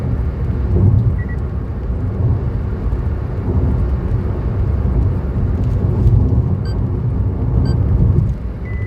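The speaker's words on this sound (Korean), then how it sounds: "10차선 도로를 달려봅니다" Steady, broad road rumble from a car driving along a wide ten-lane road, continuous and fairly loud, with tire and wind noise and a few faint electronic navigation beeps near the end.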